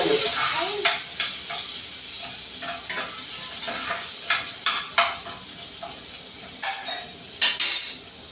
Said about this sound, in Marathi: कांदा चांगला लाल झालेला आहे आता त्याच्यात मी टॉमॅटो टाकते